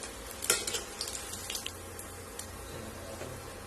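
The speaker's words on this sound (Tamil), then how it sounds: "இப்போ நம்ம இதை ரிமூவ் பண்ணிடலாம் ஆயில்ல இருந்து." Pieces of coriander mint chicken are lifted out of hot frying oil: a steady, close sizzle with a few sharp clinks and scrapes near the start, then quieter bubbling that continues to the end.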